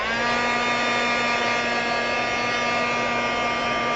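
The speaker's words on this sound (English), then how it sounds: "Alright, heat gun time again." A heat gun blows hot air over clay holiday ornaments, a loud, constant whirring hum with a steady motor whine that holds unchanged throughout, with no speech.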